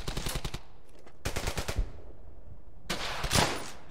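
Machine gun fire in Brothers in Arms: Hell's Highway comes in three loud, rapid bursts separated by short gaps, with a faint echo trailing each volley.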